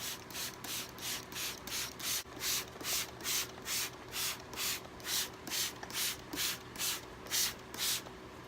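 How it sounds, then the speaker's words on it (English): A spray bottle pumps in a quick, even rhythm, about twenty short hissing bursts of water mist onto arugula seeds, close and clear with no talking. "and you just start spraying them."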